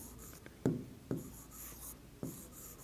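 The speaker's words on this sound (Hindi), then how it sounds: "तो हम लिखते हैं" Pen writing on paper during a maths lesson, with three distinct scratchy strokes at a steady pace, close and fairly quiet and clear.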